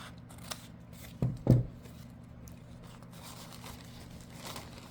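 Scissors cut a paper sunflower napkin in half. A couple of close, crisp snips and crinkles sound over a quiet room hum.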